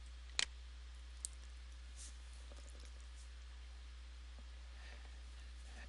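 A single sharp mouse click on a pencil edit icon, with a fainter second click about a second later, then near silence over a low steady hum.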